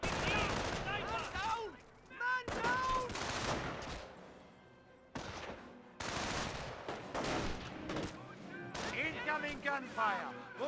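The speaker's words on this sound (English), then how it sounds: "Incoming gunfire." Gunfire in the Company of Heroes 1 real-time strategy game, with bursts of rifle and machine-gun fire crackling in loud clusters across the battlefield, broken by short pauses, while a commentator talks over much of the action.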